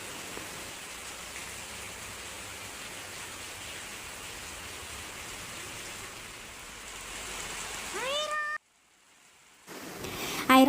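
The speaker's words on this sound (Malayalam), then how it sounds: "ഈ മഴയും ഈ സൗണ്ടൊക്കെ" Heavy monsoon rain in Wayanad, Kerala, pours in a steady hiss, briefly cut off near the end, with a cat meowing over it.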